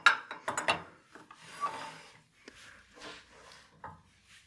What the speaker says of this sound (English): So usually I'll just cut that off with the saw